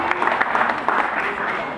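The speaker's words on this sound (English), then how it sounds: "Please can we give a round of applause." Audience applause at an inter-school parliamentary debate competition, a steady wash of clapping hands lasting under two seconds, fairly close, with voices mixed in the crowd noise.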